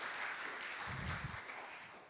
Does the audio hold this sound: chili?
no